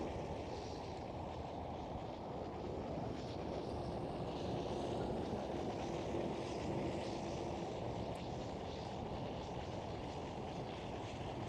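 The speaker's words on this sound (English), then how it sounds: "And KLM departing runway 24." A KLM airliner departs runway 24 at Amsterdam Schiphol, a faint, distant, continuous jet roar that holds steady throughout with no talk.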